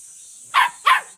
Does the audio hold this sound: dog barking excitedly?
yes